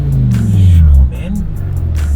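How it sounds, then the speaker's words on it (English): A BMW 850i fitted with a V10 engine revs loudly from inside the car, a deep sustained roar building for about a second and then easing off to a steady drone. "This is one of the best sounding cars I've ever heard"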